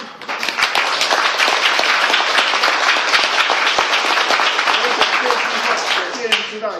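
Audience applause fills the whole stretch, with dense, loud clapping from a seated crowd at a gathering, holding steady throughout and fading only slightly near the end.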